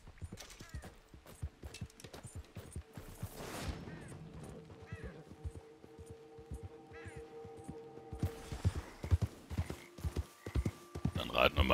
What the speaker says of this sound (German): Dann reiten wir mal eben zurück